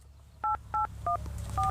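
Four short DTMF beeps of a phone number being keyed in, evenly spaced and clear, over a low background hum.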